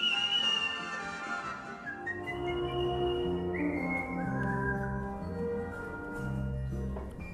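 A person whistles a wandering melody alone: clear sustained tones gliding between pitches over a soft low background, close and steady throughout.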